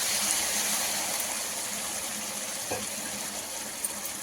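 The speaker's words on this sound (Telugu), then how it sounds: "కొంచెం లైట్గా వాటర్ని ఇలా వేసుకున్నాము." Water is poured into a pan of frying beans and carrots as they cook, giving a steady, close gushing hiss that runs throughout with a slight bubbling tail and no talk.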